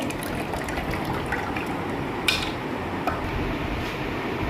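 Garlic water pours steadily through a strainer in a continuous splashing trickle, close and moderately loud, with no voices.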